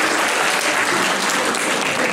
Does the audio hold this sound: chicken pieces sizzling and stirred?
no